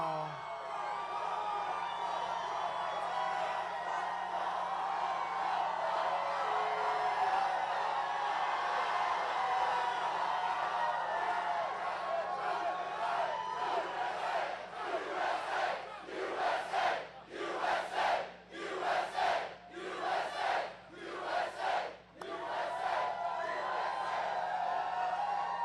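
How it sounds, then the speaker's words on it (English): A large political rally crowd in Gastonia, North Carolina roars with sustained cheering and chanting, swelling into rhythmic pulsing shouts toward the end, loud and continuous throughout. "Oh, this is a big crowd."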